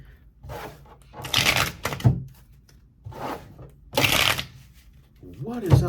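Two bursts of crisp riffle shuffling of tarot cards, each a rapid flurry of papery flicks ending in a soft tap as the deck settles, with brief pauses between.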